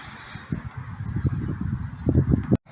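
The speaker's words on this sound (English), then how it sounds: "Geese grazing, as they do." Several geese honk in a loose, overlapping chorus nearby at King's Pond, Alton, calls rising and falling over wind noise, ending abruptly.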